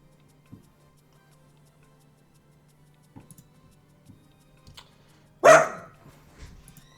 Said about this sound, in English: Every time I try to talk, your dog barks.